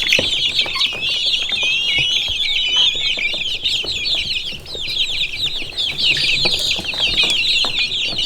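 Young gun-mottled Wyandotte bantam chicks cheeping and clucking nearby, a dense, continuous chorus of high peeps with soft handling noises underneath.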